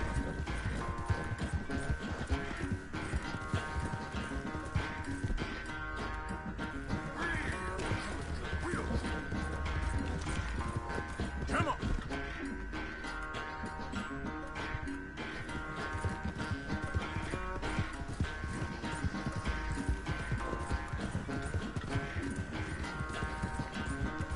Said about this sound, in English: Apesar do meu cavalo ser inferior, o jogo eu tô deixando ele ganhar a corrida